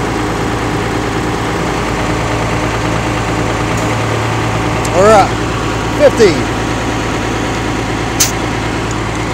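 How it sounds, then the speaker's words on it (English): A Deuce and a Half military truck engine idles in a steady, loud, low rumble throughout, with a few brief squeaks over it while someone talks close by. "now I'm going to turn the engine back on to refill"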